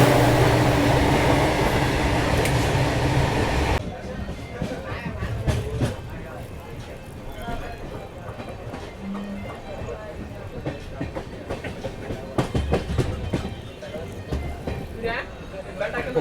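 Belagavi–Mysuru Express LHB coaches rumble along the rails near the Hubballi railway bridge area. A loud roaring opening drops into a steady rolling rumble with scattered clacks and squeaks, heard from inside the train.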